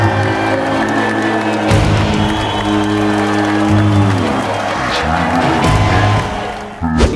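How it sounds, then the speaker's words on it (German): Loud, dense applause with cheering from a studio audience, swelling as a guest enters to dramatic music that runs underneath throughout, the crowd noise steady for about seven seconds before cutting off abruptly. "Und einen tösenden Applaus"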